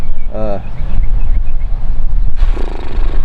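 Strong right-to-left wind gusting across an open disc golf course, a steady low buffeting rumble that swells and stays loud throughout, with brief talk near the start.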